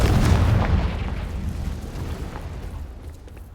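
A Confringo fire spell goes off in Hogwarts Legacy with a heavy booming blast that opens loud and close, then rumbles and crackles as it slowly fades.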